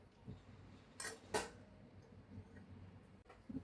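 A lid goes onto a pot of homemade sweet yogurt with two quick metallic clinks close by, then a faint tap or two in quiet room background.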